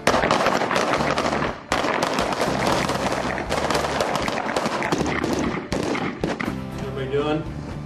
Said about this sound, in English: we'll all go out to the range and shoot some rounds